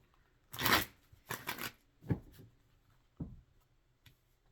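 Tarot cards are shuffled in several short riffling bursts, crisp and close, separated by brief pauses and a few lighter taps.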